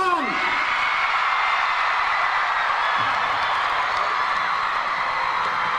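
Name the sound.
audience cheering for Shah Rukh Khan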